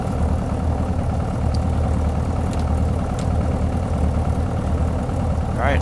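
A Piper Arrow engine idles before a run-up in Microsoft Flight Simulator, a steady, loud, close low drone with an even rhythmic throb that holds constant throughout.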